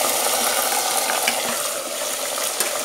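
Marinated chicken dropped into a pan of fried onions sizzles loudly and steadily close up, with stirring scrapes and small clatters over the hiss and no voices.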